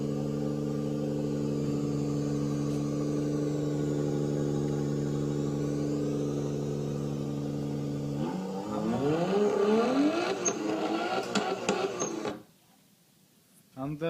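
A Rover 620 car fitted with a new Bi Turbo engine runs at a steady idle hum for several seconds, then revs up and down unevenly before cutting out abruptly, with voices talking nearby.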